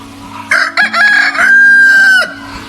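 A homestead rooster crows loudly and close by in one long drawn-out call with a clucking start, then stops.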